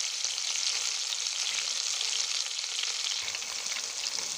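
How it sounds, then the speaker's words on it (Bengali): Chicken shashlik frying in a pan: a loud, steady, dense sizzle of hot oil, continuous and close, with no voices. "এই পর্যায়ে আবার নিচেরটা 3 মিনিট ভাজবো এবং কি ঢেকে দেবো।"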